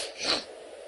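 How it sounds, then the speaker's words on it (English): A single short nasal sniffle or snort from a person with a stuffy nose, close and fairly soft, peaking briefly before trailing into quiet breathing. "We got the sniffles."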